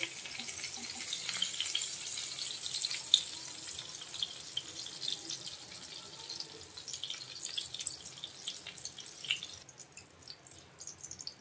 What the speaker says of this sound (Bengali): পটলগুলো আমি এরকম একটু লাল পোড়া পোড়া করে ভেজে নিয়েছি। এখন পটলগুলো আমি তেল থেকে তুলে নেব।